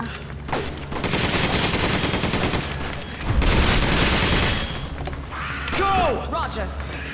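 Gunfire from the video game Resident Evil 5: dense bursts of rapid shots run through most of the stretch alongside other game noise, with people talking over the action.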